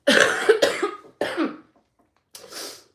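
Several harsh coughs in a quick cluster, close and loud, followed by a short raspy throat-clearing after a pause.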